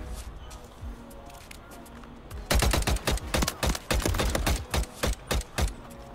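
Rapid automatic gunfire in a search-and-destroy shooter video game, a long string of loud, evenly spaced shots starting abruptly after a quiet stretch, with no talk over them.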